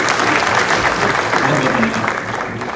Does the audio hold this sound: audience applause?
yes